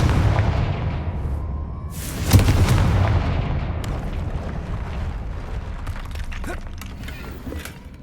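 In Hogwarts Legacy, a Confringo blasting spell goes off with one sharp, loud explosive crack and a heavy boom. A rumbling roar follows and slowly fades into crackling debris and game ambience.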